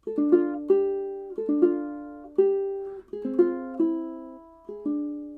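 Fingerstyle ukulele plays two measures of a song, a series of clear plucked chords and bass notes ringing and decaying one after another, close and alone.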